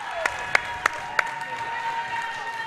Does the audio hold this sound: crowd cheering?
yes